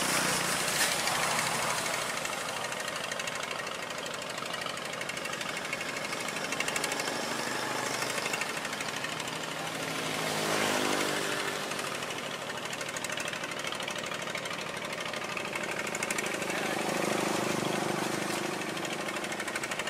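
A hand tiller's small engine runs steadily at close range, a loud, dense knocking clatter with a rough mechanical rattle that holds for the whole stretch, with no voices.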